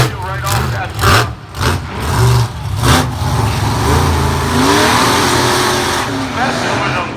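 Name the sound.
monster truck engine revving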